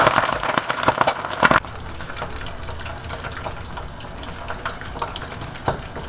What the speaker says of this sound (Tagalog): I-prito rin natin yung pata.